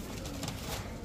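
A red-mottled female pigeon gives a short, close coo, about a second long, against a soft background hiss.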